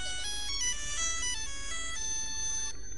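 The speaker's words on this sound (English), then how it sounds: "Yes, people answer your phone," A phone ringtone plays loud and clear as a bright electronic melody of stepping tones, alone and continuous.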